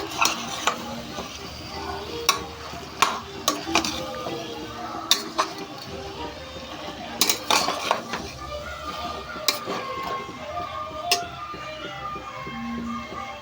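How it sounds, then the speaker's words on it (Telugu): Potato kurma fries in a pan with a moderate sizzle. A spoon stirs and taps against the metal in repeated sharp clinks, and a voice speaks faintly at times underneath. "ఇప్పుడు ఇది కూడా ఫ్రై చేసేస్తున్నాం."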